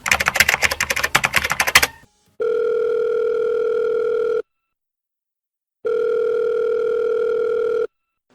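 A telephone dial tone before a call, preceded by about two seconds of rapid keyboard typing; the steady tone then plays twice, each burst about two seconds long, loud and clear, with a gap of silence between.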